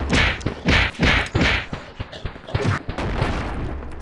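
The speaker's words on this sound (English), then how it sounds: "oh yeah, I have a shotgun, I forgot." A shotgun in the video game Animal Company fires a rapid series of loud, punchy blasts, then a few scattered smaller thuds, with a steady background hum afterward.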